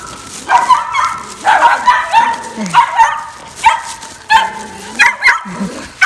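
A neighbour's dog barks and yips repeatedly on a morning walk, a string of close, loud, uneven barks with some whiny yelps in between.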